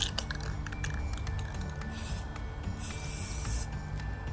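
Aerosol spray paint hissing through a stencil onto mirror glass in two short, close bursts, with quiet handling noise between them.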